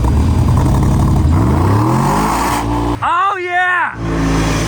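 A car rolls down a hill after being gently pushed, a low rumbling whir that rises and shifts in pitch as it gathers speed, with a man's excited exclamation cutting in midway and loud talk around it.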